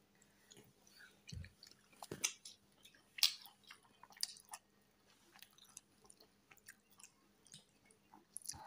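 Quiet close chewing while eating rice with shrimp curry, soft wet bites and smacks in an irregular rhythm, with a few sharper clicks and no talk.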